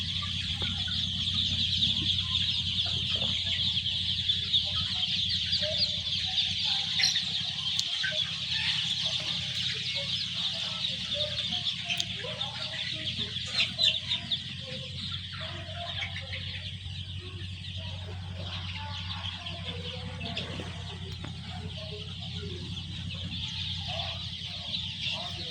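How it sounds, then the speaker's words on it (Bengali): A large flock of about 1100 young Sonali chickens fills a shed with steady, dense cheeping and clucking, a continuous crowded chatter throughout with no talking. "এখানে 1100 মুরগি আছে"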